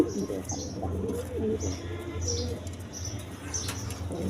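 Lahori pigeons in a breeding loft, a pair sitting on eggs, give soft repeated low coos with occasional light chirps and wing flutters, fairly quiet and close.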